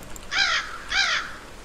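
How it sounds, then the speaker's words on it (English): A crow caws twice in the game Endless Days, two loud harsh calls about half a second apart, close and clear over a quiet background. "I was just to actually check the crow."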